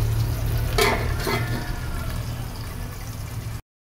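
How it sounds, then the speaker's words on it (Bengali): Pieces of pointed gourd fry in a pan with a steady sizzle, broken by a couple of quick scraping stirs near the start. "এদিকে পটল ভাজা হচ্ছে জল কমিয়ে কমিয়ে"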